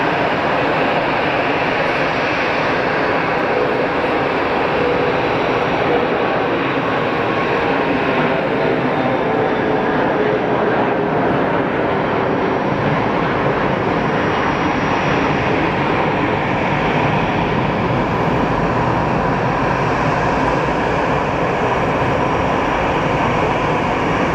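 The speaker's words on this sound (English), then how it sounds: "Oh, it's our CRJ heading out. The Lufthansa." A Lufthansa CRJ jet taxiing out at Geneva Airport: a steady, loud broadband engine roar that holds evenly throughout with no break and no talk.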